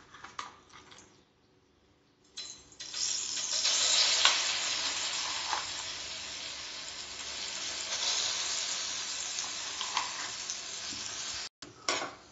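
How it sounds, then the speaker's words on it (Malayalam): Ground betel leaf paste drops into hot ghee in a pan, bursting into a loud, continuous close sizzle with faint stirring scrapes that carries on steadily after a quieter start. "ഇനി നമ്മൾക്ക് ഈ അരച്ച പേസ്റ്റ് ഇതിലേക്ക് ഇട്ട് കൊടുക്കാം."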